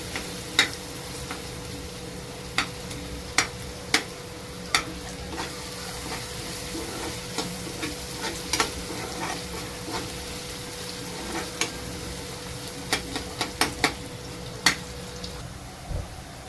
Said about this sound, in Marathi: कांदा लाल झालाय परतून